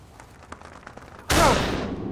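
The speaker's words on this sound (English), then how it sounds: "That was a hell of a shot" A single loud, sharp gunshot blast from a hunting scene in a family movie, ringing out suddenly after quiet rustling and a few soft clicks, with a long rumbling decay.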